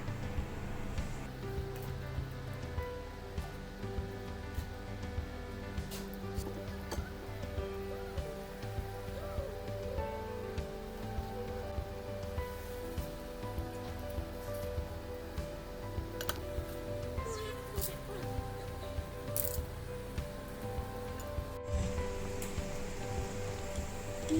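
Rain falls outside a glamping lodge surrounded by trees and a stream in Mae Kampong, a soft steady patter with occasional sharper drips, heard from indoors.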